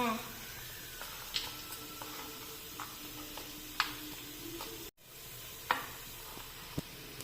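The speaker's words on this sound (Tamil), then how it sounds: "இஞ்சி பூண்டு கொஞ்சம் போட்டுக்கோங்க, உப்பு போட்டுக்கோங்க, மண்டி மசாலாலாம் போட்டு பரட்டிக்கோங்க" Ginger, garlic, salt and mandi masala sizzle in a pan while being stirred, a soft steady frying hiss with occasional clinks and scrapes of a utensil, fairly faint.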